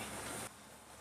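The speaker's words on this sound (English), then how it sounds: "So we're just going to film with the rain in the background." Rain falls in the background as a dense, even hiss. It is louder for the first half second, then drops to a softer steady wash.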